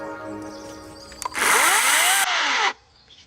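A Greenworks 60V GEN2 16-inch cordless chainsaw revs up with a loud electric whine, holds at full speed for over a second and then cuts off abruptly. A low hum is heard beforehand.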